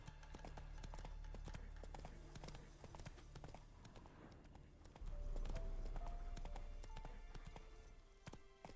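Hooves of Roach, the horse in The Witcher 3, clop in a steady trotting rhythm, soft and close, then pick up into a firmer, louder gait partway through, with faint ambient game sounds around them.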